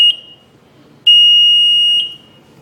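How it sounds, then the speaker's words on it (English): A control panel's chute fire alarm sounds as a loud, piercing electronic tone: a short beep, a pause, then a sustained beep of about a second, heard close and alone. "the alarm pops up on the screen saying chute fire alarm, check smoke and heat sensors and chute"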